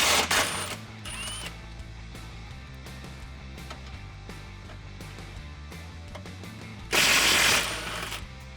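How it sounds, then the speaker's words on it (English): A ratchet fitted with a 16mm socket loosens frame bolts on a Jeep Wrangler JL during a rear bumper install. The clicking comes in quick bursts with gaps between them, and a louder metallic clatter sounds near the end. No one speaks. "Now I'm going to remove these 2 frame bolts using a 16mm socket."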